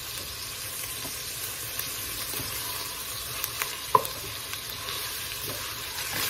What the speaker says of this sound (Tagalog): medyo pa gisa-gisa natin